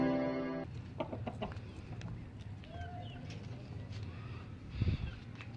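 Loose hens cluck sporadically nearby, with scattered short calls over a constant low background and a louder flurry near the end; a voice may murmur faintly.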